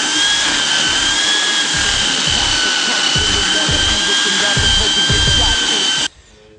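A power drill runs loud and steady with a high whine for about six seconds, then cuts off abruptly, leaving a brief quiet tail.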